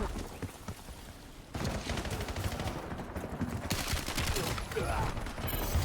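Rapid automatic gunfire in the video game Black Ops 7, dense bursts of shots crackling continuously through most of the moment, with brief quieter gaps between volleys.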